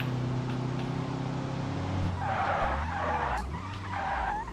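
A car in the BeamNG driving game skids and crashes, with long tire squeals over a droning engine, then heavy crunching impacts and scraping bursts, loud and close.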